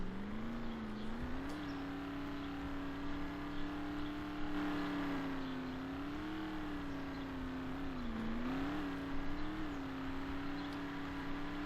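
Toyota Prius GT in Roblox Ultimate Driving accelerates with a steady synthetic engine drone that rises and dips in pitch through repeated throttle swells, fairly quiet and continuous without any talk.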